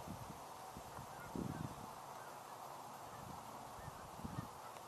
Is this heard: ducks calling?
yes